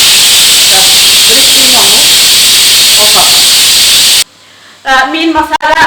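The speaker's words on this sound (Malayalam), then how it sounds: "മീൻ പൊരിച്ച എണ്ണയിൽ തന്നെയാണ് ഫ്രൈ ചെയ്യുന്നത്." Onions sizzle loudly in oil left over from frying fish for a Malabar fish biryani, a dense steady hiss that cuts off abruptly near the end, followed by a brief burst of speech.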